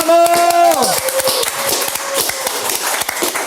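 A studio audience claps for a singer at the close of a talk show, crisp dense clapping rising as a sustained musical tone fades out, carrying on steadily to the end.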